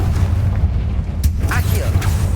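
A Confringo blasting spell explodes in Hogwarts Legacy with a loud booming burst over continuous game rumble, then a sharp crack and swirling magical whooshes follow.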